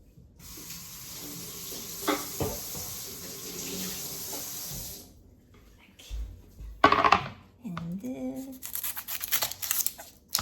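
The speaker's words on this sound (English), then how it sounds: "Onions, let me do a quick wash." Onions washed under a running kitchen tap, a steady rush of water for several seconds, then a pause and bursts of splashing and handling under the stream.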